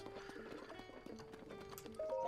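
Hoofbeats of a horse in The Legend of Zelda: Breath of the Wild on Switch 2, a quick clip-clop rhythm layered over steady game music, with a brief whinny-like tone near the end.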